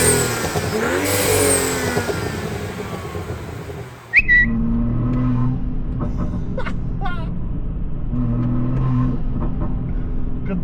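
A BMW 335i fitted with a new intake revs loudly, its engine climbing and falling through a few throttle blips, then settling into a steady idle with small revs on top.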